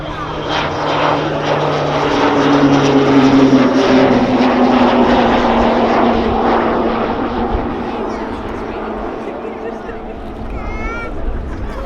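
A propeller aircraft flies a display routine at the RAF Cosford Airshow, its engine drone building to a loud sustained roar in the middle and then easing off, heard from the crowd.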